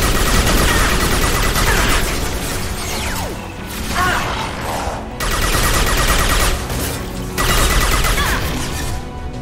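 Video game weapons fire in dense, loud, continuous bursts of gunfire mixed with mechanical clatter and crashes, filling the scene with only brief dips in intensity.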